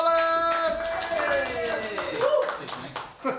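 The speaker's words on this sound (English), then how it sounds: "we start stamping them feet, clapping them hands, go wild and crazy" Comedy club audience clapping and stamping their feet, a dense run of close claps and thumps under loud cheering and shouting voices, swelling and dipping for a few seconds.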